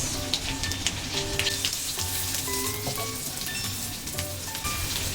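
Onion and garlic sizzle steadily in melted butter in a pan, a dense continuous crackle with scattered louder pops, close and alone with no talking.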